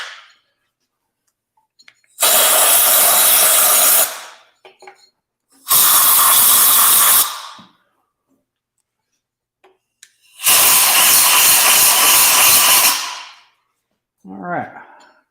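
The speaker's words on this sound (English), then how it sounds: "Let me give this thing a good blow out here." Compressed air blows out equipment in a workshop in three loud, hissing bursts of roughly two seconds each, separated by quiet gaps, with a brief voice at the very end.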